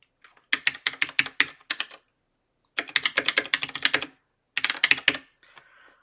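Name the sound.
typing a password on a computer keyboard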